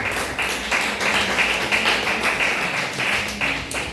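Congregation at a church service clapping together in praise, a dense, steady patter of many hands filling the room, fairly loud and continuous with no talk over it.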